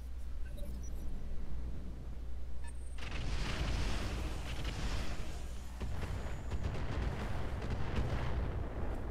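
Artillery barrage striking a Cataphract mech in Roguetech, a low engine hum giving way to a sudden burst of heavy booming impacts and crackling blasts that roll on in clustered, overlapping waves.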